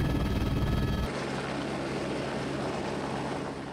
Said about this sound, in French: Nous utilisons un hélicoptère Écureuil AS350 B3+,